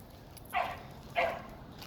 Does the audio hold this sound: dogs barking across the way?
yes